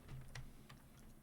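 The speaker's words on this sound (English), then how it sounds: "you can listen to the clackety keyboard" A few quiet, clacky keystrokes on a computer keyboard in a room, spaced unevenly over a low steady hum, with no talking.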